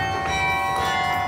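Carillon bells of Beaumont Tower on the Michigan State campus, a medium-sized instrument, ring in a steady sustained chord with long shimmering overtones, loud and close, no talking.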